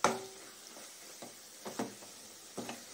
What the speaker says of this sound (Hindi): जैगरी और कोकोनट फ्राई हो रहे हैं